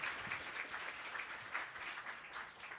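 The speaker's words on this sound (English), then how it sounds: "Can we give them all a round of applause, please?" An audience at a media launch event gives board members a round of applause, a faint, distant patter of many hands clapping steadily.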